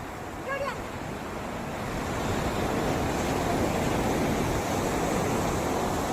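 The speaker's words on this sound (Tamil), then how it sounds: "இப்போ நான் எங்க இருக்கேன்னு பார்த்தீங்கன்னா பீச்சில் இருக்கேன்" Waves and wind at a beach, a broad continuous roar of surf and gusting air that swells louder after the first couple of seconds and holds steady throughout.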